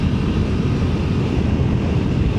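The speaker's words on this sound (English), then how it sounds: "That T-plane crank does sound great." Triumph Tiger 900 GT Pro motorcycle with a T-plane crank three-cylinder engine, a loud, steady, rumbling drone under heavy rushing wind noise while riding, no talk.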